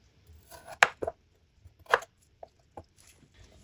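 A knife cutting okra on a board in a home kitchen, a handful of sparse, crisp chops and taps spaced irregularly with quiet gaps between, close and fairly soft.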